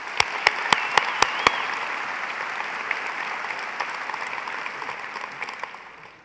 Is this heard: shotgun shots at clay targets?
no